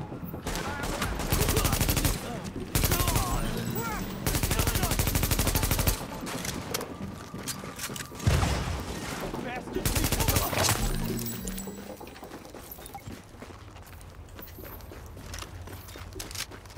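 Rapid bursts of gunfire in the video game The Division rattle on and off, loud automatic volleys fading to quieter background noise, with voices talking now and then.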